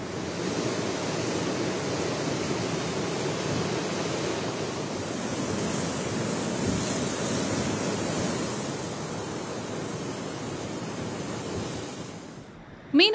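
Rough sea waves crashing on the Cuddalore shore during a cyclone, a loud, unbroken roar of surf with wind buffeting the microphone, swelling and easing slightly before a brief knock at the end.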